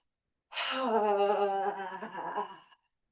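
A single big, voiced mouth breath during a shoulder exercise in a spring equinox movement class: a loud, gasping exhale lasting about two seconds, heard alone against silence.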